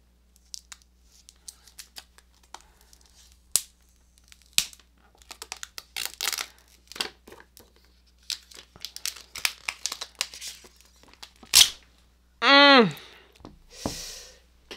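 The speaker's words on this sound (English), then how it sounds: "We're ripping the plastic, all right?" Plastic wrap being ripped and crinkled off the packaging of a Samsung Galaxy Z Fold 2 phone, a run of close, sharp crackles and tears with a louder drawn-out rip near the end, interspersed with talk.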